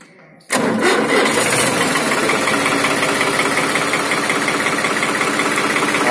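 A New Holland 3630 tractor engine catches after a brief quiet moment and settles into a steady, loud, close diesel idle with a rough knocking rumble, running alone without talk.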